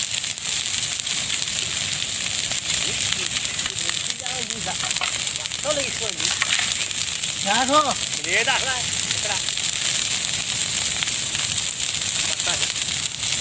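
Steady crackling and sizzling of a fire in a lemon orchard runs throughout, with a few short vocal sounds rising over it midway.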